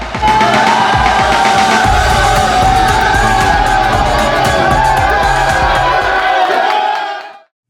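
A large arena crowd of about 6,500 to 7,000 at a basketball game stands and cheers, a loud, sustained roar with whistles and shouts that holds steady for several seconds before cutting off.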